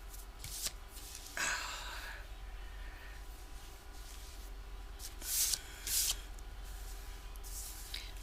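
Paper being folded for a winter gift box, with sharp crinkling and rustling bursts scattered among quieter handling noises, close by and with no talking.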